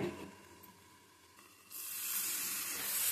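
Banana stem (thor) frying in a covered pan over low gas, a soft steady sizzle and hiss that swells louder partway through, close up with no talking.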